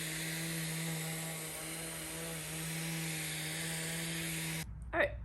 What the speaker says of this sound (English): All I need to do now is take my orbital sander and give it a little finish sand.